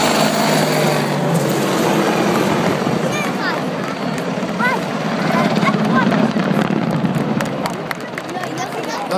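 A Saraf attack helicopter, a two-seat multirole aircraft, flies with a steady loud rotor and engine drone that swells and fades slightly, while a narrator speaks over it and faint chirps come through.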